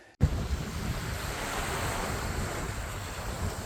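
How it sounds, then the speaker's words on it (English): Waves wash steadily onto a sandy beach near Cancun at sunset, a continuous broad surf roar mixed with wind buffeting the microphone, with no voices. "we took a long walk along the beach at sunset, toes in the sand, waves lapping gently"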